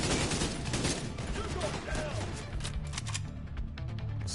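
AK rifle gunfire in The Division 2 shooter game, with rapid bursts of loud close shots and crashing impacts running nearly nonstop, fading slightly toward the end.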